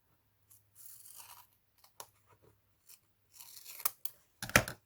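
Scissors snip away excess craft paper around a handmade gift box, with short, quiet rustles and cuts separated by pauses, ending in a sharper crisp crunch.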